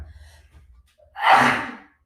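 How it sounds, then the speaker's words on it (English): A single loud sneeze right up close, preceded by a few seconds of quiet rumbling. "I have to sneeze."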